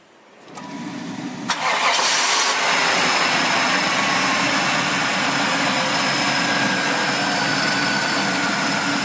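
A 1994-1996 Chevy Impala SS cranks briefly, then its engine catches and settles into a steady, close idle with a faint whine, recorded in a workshop during a heater core replacement.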